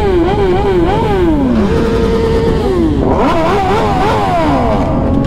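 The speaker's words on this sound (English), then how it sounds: "Got my man doing his first burnout." A sport bike doing a burnout at a memorial ride, its engine loud and close, revving in rising and falling sweeps with a roaring, clattering edge throughout.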